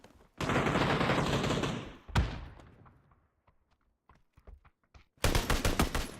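An M249 machine gun in PUBG fires a long continuous burst, then a single heavy shot, then scattered faint clicks and taps. A second rapid burst of distinct shots follows near the end.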